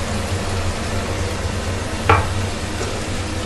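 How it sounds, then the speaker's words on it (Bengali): Crushed garlic is stirred into chicken frying in a pan, a steady close sizzle running throughout with a brief louder scrape or clack from the spoon partway through and no talking. "এবার এই থেতো রসুনটা দিয়ে আমি একটু হালকা হাতে নাড়াচাড়া করে নেব।"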